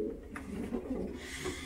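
Pigeons in a breeder's aviary coo softly and repeatedly, low rolling calls overlapping at close range against a steady murmur of the flock.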